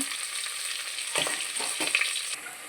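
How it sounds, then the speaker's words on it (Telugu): Onions fry in a pan with star anise and other whole spices for bagara rice; a close, steady hiss of oil is broken by a few brief stirring strokes. "ఉల్లిపాయ వేసుకుందాం ఇవి కొద్దిగా వేగాలి ఎర్రగా"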